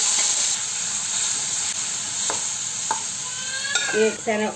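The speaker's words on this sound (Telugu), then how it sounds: "పోపు ఇలా ఎర్రగా వేపుకోవాలి. వేపుకున్నాక శనగపప్పు వేసేసుకుని" Sizzling hot oil tempering of mustard seeds, garlic slivers, asafoetida and curry leaves as chana dal is tipped in and stirred in the pan, with steady frying hiss and a few scraping stirs near the end.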